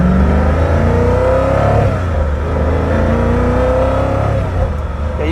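Koenigsegg Agera RS1 supercar engine revving from inside the cabin, a loud sustained climbing roar with pitch sweeps as it accelerates, easing slightly toward the end.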